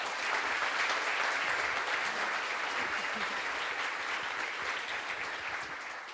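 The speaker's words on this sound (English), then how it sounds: "I think we should applaud that as well" An audience claps steadily and densely after a performance, a broad sustained burst of applause at a Danish event on the wellbeing economy, fading slightly toward the end with no talk over it.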